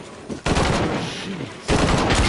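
Loud, sustained enemy gunfire in Shadow of the Tomb Raider, heavy automatic bursts nearly without pause, briefly dipping before surging again at full volume.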